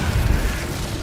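Incendio fire spell blast in the Hogwarts Legacy video game, a short, heavy, low boom with a rumbling burst that fades quickly over about a second, heard alone without talk.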